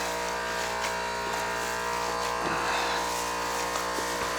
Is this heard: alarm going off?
no